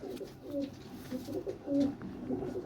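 Pigeons coo in repeated soft, throaty phrases close by, several calls overlapping in a steady rhythm with faint background noise.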